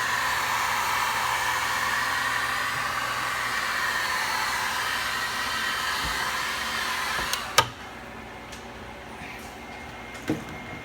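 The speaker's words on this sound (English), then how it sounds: "you can heat them up with a heat gun" Heat gun warming parts during a 2003-2005 Ford Powerstroke Excursion cab removal, a steady loud blowing hiss running close for about seven seconds, then switching off, followed by a few faint knocks.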